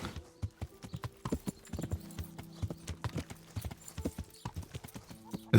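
A horse's hooves clip-clop in the medieval game Kingdom Come: Deliverance, a quick steady walking rhythm of crisp hoof strikes close by, running throughout with a faint low drone beneath.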